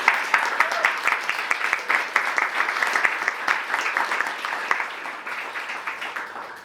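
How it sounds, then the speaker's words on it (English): Audience at a Nashville storytelling night applauding, a steady patter of many hands clapping close and dense, tapering slightly toward the end, with faint voices mixed in. "I think we should just give her a hand for being so brave."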